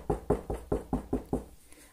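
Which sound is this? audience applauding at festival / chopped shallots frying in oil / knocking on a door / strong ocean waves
knocking on a door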